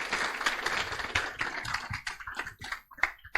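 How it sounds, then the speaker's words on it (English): Audience applause after a talk at a 2023 tech event on talent, capital and startup trends: a few seconds of dense clapping from a room of people, thinning out toward the end. "thank you very much, and round of applause for Justin, Joseph, and Afonso"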